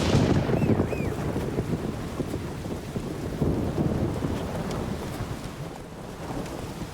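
Heavy rain pours and thunder rumbles in the video game The Witcher 3, a steady loud storm wash with low rolling booms and gusty wind noise.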